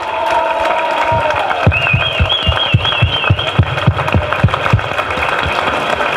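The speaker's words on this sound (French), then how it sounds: "je voudrais qu'on l'applaudisse" A crowd at a gathering breaks into applause. Steady clapping rises into a run of distinct, fairly even claps over a continuous murmur of voices and background noise.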